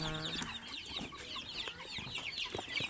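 Month-old crossbred Rhode Island and Jersey Giant chicks in a crowded pen, a busy chorus of overlapping close clucks and high cheeps with a short crow-like call near the start.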